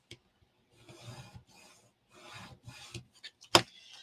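A fold in paper is burnished with firm rubbing strokes, soft close scratchy swipes in several short bursts, ending with a sharp tap.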